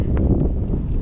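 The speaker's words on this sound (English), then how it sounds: "oh it's so windy" Strong wind buffets the microphone on open water during kayak fishing, a loud, continuous low rumble over a single brief second.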